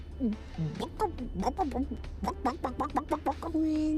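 A human voice imitates a chicken, giving a quick series of about a dozen rhythmic clucks, close and clear, ending on a sustained higher note.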